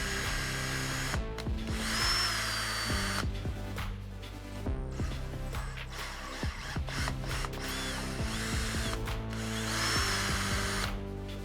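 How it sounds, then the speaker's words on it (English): Power tool tapping two holes for a 3D printer bed part, a steady mechanical whir with tonal drive harmonics that starts and stops in several bursts, close and loud, with no talking. "First thing I need to do is to tap these 2 holes."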